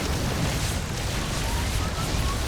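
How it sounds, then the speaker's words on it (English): Yamato cannon blasts from StarCraft 2 battlecruisers build into a dense, rumbling wash of explosions and bursts, loud and continuous across the clip. "Battle cruisers dumping more Yamato cannons as the battle cruiser count rises too."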